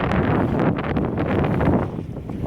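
Steady wind rushing and buffeting across the microphone on a sailboat, a loud broadband roar with gusty swells and no talking.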